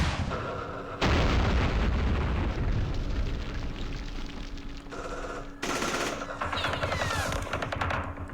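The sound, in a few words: anti-aircraft gunfire in the video game Campaign Series Vietnam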